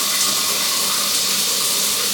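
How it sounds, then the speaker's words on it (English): Shower water runs in a steady, loud, unbroken hiss of spray with no voices over it. "So let's go jump in the shower and start getting ready for work."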